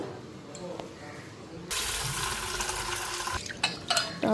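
Masoor dal washed under running water in a kitchen: quiet handling, then a steady rush of tap water that starts abruptly and continues, with some splashing near the end.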